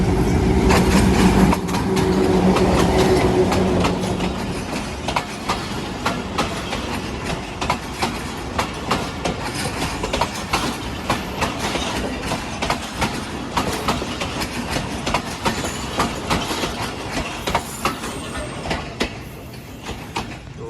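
Lasani Express, a Pakistan Railways passenger train led by a THA 20 locomotive, passes close by at Shahdara Bagh Junction. A loud engine rumble gives way to a long run of rhythmic clickety-clack as the coaches roll past.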